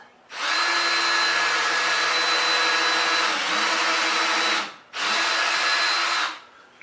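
A power drill spins a countersink bit into a shop tank rack build, two loud steady whirring bursts of about four seconds and then one and a half seconds, separated by a brief pause.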